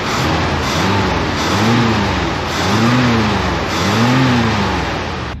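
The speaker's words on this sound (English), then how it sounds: "That's a good sounding engine." A 1964 Mercury Comet engine running close and loud, with four smooth revs rising and falling over a steady idle rumble, no voices.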